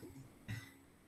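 A teacher with a mild cough gives a single short, muffled cough or throat clear, faint and close, in an otherwise quiet room.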